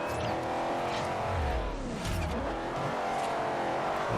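A weak street-racing car in Forza Horizon on Xbox 360, its engine droning and rising through revs in the foreground with some tire noise, while the race goes on through a twisty course.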